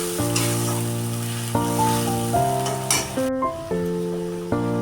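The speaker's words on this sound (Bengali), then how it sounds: "এবার আমি মশলাটা দিয়ে দিচ্ছি তেলের মধ্যে" Spice paste frying in oil for a bhola fish curry, a steady hiss running under loud tonal background music that changes notes throughout.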